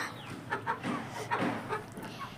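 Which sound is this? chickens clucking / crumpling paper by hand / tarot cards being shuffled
chickens clucking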